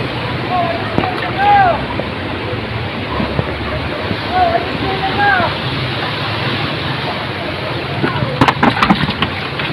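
Fast-flowing flood water surges down a river in a steady, loud rushing roar, with wind buffeting the microphone and occasional voices faintly audible.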